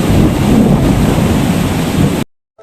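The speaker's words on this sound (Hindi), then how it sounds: "देखिए कितनी तेज़ बारिश हो रही है और कुछ भी नहीं दिख रहा है" Heavy rain pours during a thunderstorm as a dense, steady, loud roar close to a mobile phone microphone, then cuts off abruptly near the end.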